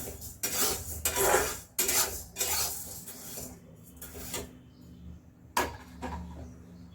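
A spoon stirs roasted dal and rice in a metal pan for homemade baby cereal, producing close scraping and clinking strokes in irregular bursts with short pauses between them. No talking is heard.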